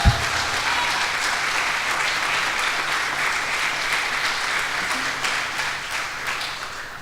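Loud, steady applause from a church congregation during a worship service, dense clapping that carries on evenly for several seconds after a sharp start, slowly thinning toward the end with no clear speech over it.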